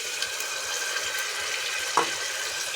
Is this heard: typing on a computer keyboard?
no